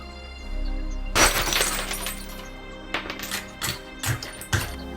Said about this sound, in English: To open the cupboard, simply break the glass.